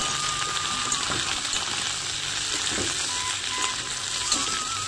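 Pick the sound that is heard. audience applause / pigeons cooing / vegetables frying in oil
vegetables frying in oil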